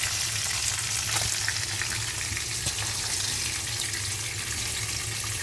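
Koi fish frying in a pan of hot oil, a steady, dense sizzle and crackle that holds evenly from start to finish with no talking.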